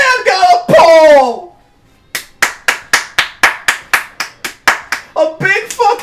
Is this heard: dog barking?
no